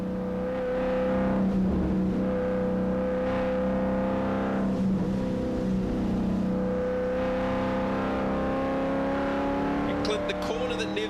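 Ford Falcon V8 ute racing around the southern loop at Teretonga Park, its engine holding a steady sustained drone with strong harmonics as it rolls through the long corner, with race commentators talking over the sound.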